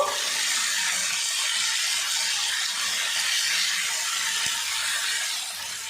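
Tomatoes for a pickle sizzle in hot tempering oil over high heat, a continuous loud hissing sizzle close up with a faint soft knock partway through and no talking.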